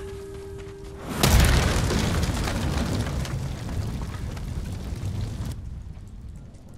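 A firecracker in the Ghost of Tsushima video game goes off with a sudden loud boom, then a long, rumbling roar of debris and noise that lasts several seconds before cutting out abruptly.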